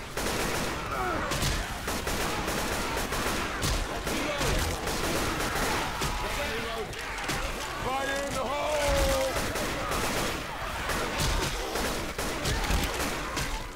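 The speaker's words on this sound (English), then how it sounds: "the shotguns just destroy them" Dense, chaotic shotgun fire in Left 4 Dead 2, continuous blasts mixed with game noise and overlapping talking voices throughout.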